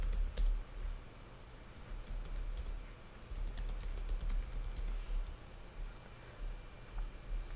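A computer keyboard clicks under quick typing while an online exam is set up, its soft, close taps arriving in irregular runs over a low background hum.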